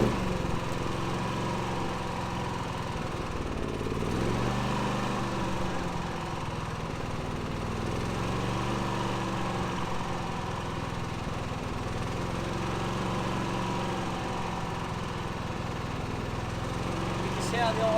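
A Senci SC8000i 7 kW silenced generator, not fuel injected, idles steadily nearby with a low hum that fluctuates slightly in slow waves, with no talk over it.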